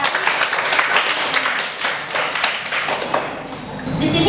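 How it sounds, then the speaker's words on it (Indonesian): Classroom of students clapping for a group during a microteaching cooking lesson. Scattered, uneven claps mixed with room noise and some background voices, moderately close and fading slightly before picking up again at the end. "Beri tepuk tangan untuk kelompoknya"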